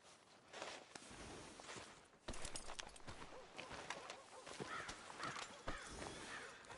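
A horse in a video game plods along with steady clip-clopping hooves over a low outdoor ambience, with a brief snort or whinny partway through.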